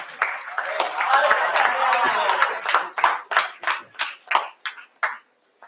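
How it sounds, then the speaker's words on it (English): Students at a college orientation session clap, starting as scattered claps under chatter and laughter, then turning into a loud, evenly spaced series of single sharp claps near the end. "Clap for them."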